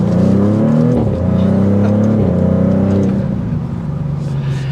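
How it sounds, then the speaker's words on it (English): A 2024 Maserati GranTurismo Trofeo accelerates hard with a loud, steady exhaust note rising through the revs, with brief dips at gear changes, heard close from inside with no talking. "It's so quick, you just want to keep feeding into it because it keeps that exhaust note"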